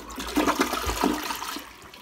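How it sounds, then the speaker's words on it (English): Toilet flushing close up, a loud rushing gurgle of water that swells and then slowly tapers off, with no talking over it. "Now we'll go ahead and flush it just to try to get as much out as we can."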